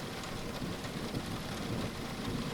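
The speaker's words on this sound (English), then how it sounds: "Thunder crashing, lightning flashing, two good friends were homeward dashing." A thunderstorm sound effect plays steady, moderately loud rainfall as a continuous hiss, with a low rumble of thunder underneath and no voices.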